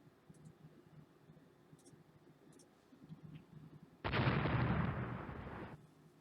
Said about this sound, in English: Washington's firing at it. 17-inch shells into the Queen Mary.